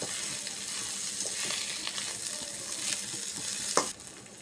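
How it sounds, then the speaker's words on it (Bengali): Jute leaves fry gently in a pan on low heat, a soft, steady sizzling hiss with light stirring rustles and a brief clatter near the end. "এখন আমি জালটা লো করে দিব, আস্তে আস্তে আমি ভাজতে থাকবো।"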